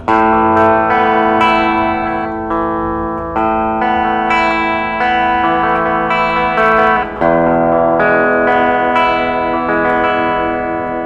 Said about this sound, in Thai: เดี๋ยวผมลองเสียงคลีนนะครับผม